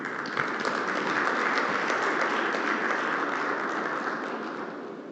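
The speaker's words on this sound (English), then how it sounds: "remain seated as we do allow for the dignitaries to make their way on stage with a warm applause" Steady, sustained applause from a large audience at an energy seminar during a bank's annual general meeting, continuous and fairly loud throughout as dignitaries walk on stage.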